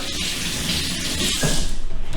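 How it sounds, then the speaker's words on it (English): Water runs steadily from a kitchen tap over a peeled butternut squash, a continuous hiss that grows slightly louder and more splashy toward the end. "Run it under water."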